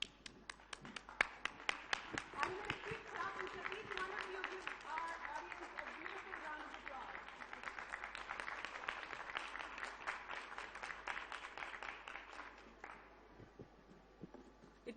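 Audience clapping at a plenary session fills the space steadily, with scattered sharp individual claps over a soft, continuous patter that fades near the end.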